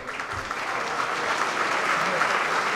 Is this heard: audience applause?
yes